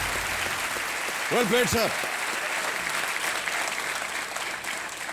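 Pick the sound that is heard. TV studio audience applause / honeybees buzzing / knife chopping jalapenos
TV studio audience applause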